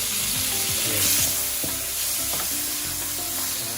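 Bell peppers stir-frying in hot oil for chicken chow mein, a loud continuous sizzle with rhythmic scraping and clanking of a utensil against the pan, no talk.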